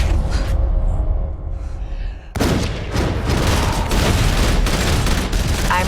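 Dense movie gunfire from real weapons rattles in a fast, loud fusillade of overlapping shots, continuous and close, with a brief lull before the volley resumes.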